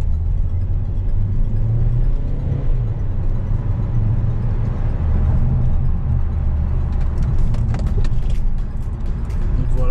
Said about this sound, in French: On a un petit son sympa, même si c'est un diesel.